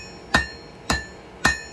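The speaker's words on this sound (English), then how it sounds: "So we're going to go back to the anvil and start refining and shaping that handle a little bit more." Three sharp, ringing hammer blows strike high carbon steel on an anvil at an even pace, each a bright metallic clang with a short decay, loud and close with no talking.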